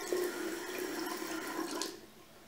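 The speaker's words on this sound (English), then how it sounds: "So I'm just going to turn on the water." Tap water runs steadily into a salon sink during a hair wash, a close, even rushing stream lasting about two seconds before it cuts off, with no talking.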